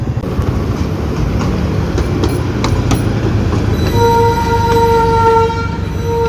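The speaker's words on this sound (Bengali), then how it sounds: "এই দেখো টয় ট্রেন যাচ্ছে" The Darjeeling toy train, a narrow-gauge mountain railway, rolls past nearby with a loud, steady rumble of wheels and carriages, followed by a sustained horn tone near the end; no talking is heard.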